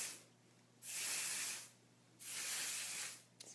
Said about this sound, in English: What a dry shampoo is, it looks like a hairspray, and you're going to spray it